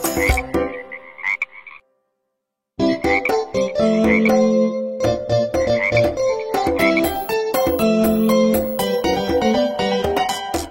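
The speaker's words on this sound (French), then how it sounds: "Une petite grenouille tachetée, assise sur une bûche tachetée, mangeait de délicieux insectes." Frog croaks in a French children's nursery song about a little spotted frog on a log, repeated rhythmic croaks woven into a bouncy musical backing, loud and upfront, with a brief silent gap early on.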